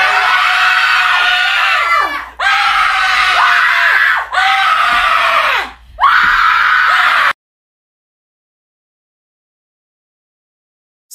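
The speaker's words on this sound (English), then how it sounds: "why did you orchestrate this screaming match to burst my eardrums?" Several people scream loudly together in three long, piercing bursts separated by short gaps, close and intense, before the sound cuts to silence.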